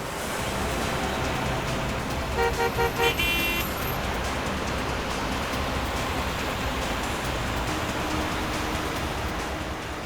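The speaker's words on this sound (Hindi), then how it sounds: "ट्रैफिक बहुत है सचिन।" Heavy city road traffic with a steady broadband roar of passing cars and a few short car horn toots around the middle, loud and continuous with no talk.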